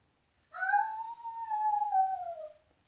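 A dog howls in one long, sustained, gently wavering tone lasting about two seconds, clear and fairly close indoors, with no talk over it.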